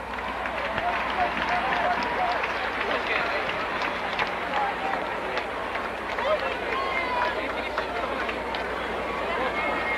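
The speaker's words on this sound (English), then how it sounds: "Let's give him a round of applause." A basketball crowd at a UAAP season 56 finals game between UST and Adamson claps and cheers steadily, a broad continuous roar with crowd chatter mixed in, and a voice talking over it.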